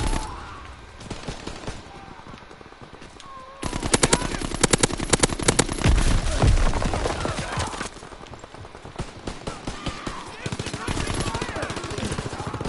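Machine gun fire in a video game bursts in dense rapid rattling volleys, loudest in the middle stretch, mixed with game effects and occasional speech.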